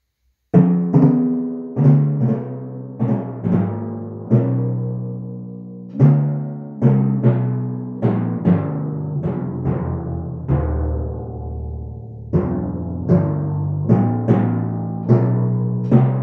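Two timpani play a lively melodic line of struck, resonant notes in short rhythmic phrases, each hit booming and decaying, with no voices.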